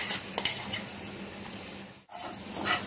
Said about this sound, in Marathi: त्याच्यात मी जो खडा मसाला करून घेतला होता तो टाकते आणि त्याचबरोबर हिरवा मसाला तोही टाकते